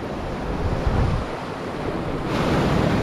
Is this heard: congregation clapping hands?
no